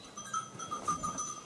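Sheep on an East Friesian milk sheep farm bleat softly, with short wavering calls close by, and a faint bell sounds in the background.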